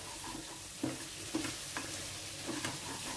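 Country chicken curry with coarsely ground pepper powder fries in a pan as a steady close sizzle, broken by a few soft stirring scrapes and knocks.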